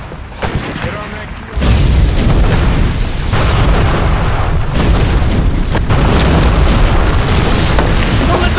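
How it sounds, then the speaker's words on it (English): Cannon fire booms from a keelboat in the Wild West video game Gun, a heavy blast followed by sustained loud rumbling gunfire and battle noise that continues without pause. "Someone get to that cannon on the keelboat tied to us!"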